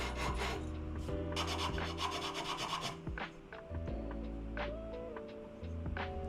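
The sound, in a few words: sanding guitar neck with sandpaper on square pipe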